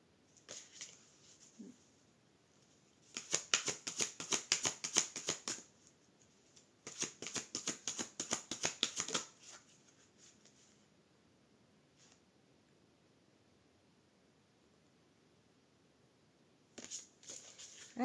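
A deck of tarot cards is shuffled and cut in two long, rapid riffling bursts of close, crisp flutters, separated by quiet gaps, then a short final flurry near the end.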